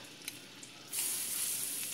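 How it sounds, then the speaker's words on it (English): Butter melting in a pan for French toast starts as faint crackles, then breaks into a steady, loud, hissing sizzle that holds to the end with no talk. "you guys can start seeing that butter melt in the pan"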